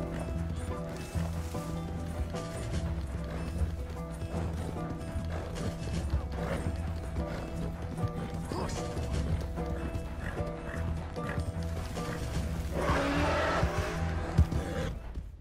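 Rhythmic hoofbeats and a horse's whinny play over a busy, layered soundtrack with mechanical clicks in Red Dead Redemption 2, continuous throughout.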